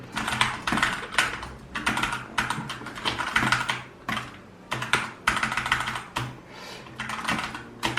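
Rapid clacking of computer keyboard keys during a Fortnite game, dense bursts of clicks in quick rhythm with short pauses, close and steady throughout.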